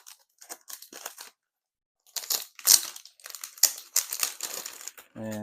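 Ascendancy board game box being opened: bursts of crinkling and tearing plastic wrap and rustling cardboard packaging close up, in short irregular runs with a pause between, and a voice speaking at the very end.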